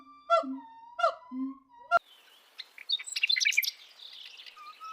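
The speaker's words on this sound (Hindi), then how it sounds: "पेड़ पर बैठी हुई ब से बुलबुल पंछी का मधुर गीत भी सुना" A bulbul perched in a tree sings alone, starting with a few clear, repeated whistled phrases, then a sharp click and a quicker run of bright chirps and trills, fairly close and moderately loud.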